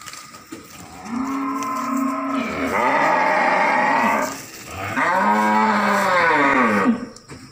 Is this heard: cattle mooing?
yes